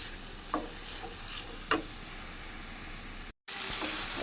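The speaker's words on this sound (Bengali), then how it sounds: "এখন আমি পেঁয়াজ আর চিংড়ি মাছ একসাথে কষাই নিতেছি" Onion and shrimp frying together in a pan, a soft steady sizzle with a couple of sharp clinks from stirring, close by with no talk.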